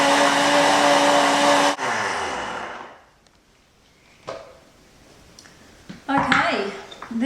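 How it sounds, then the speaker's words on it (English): An electric blender whirs steadily, blending Irish moss with hazelnut milk for a raw vegan chocolate cake. After about two seconds the motor winds down to quiet, followed by scattered clinks and handling noises of kitchen utensils. "blend up the Irish moss in the blender"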